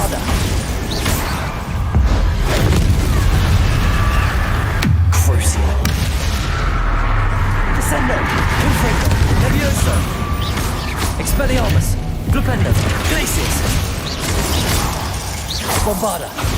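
Bombarda spell blasts in Hogwarts Legacy boom and crackle through dense, loud combat noise, with deep impacts around the middle and speech mixed in throughout.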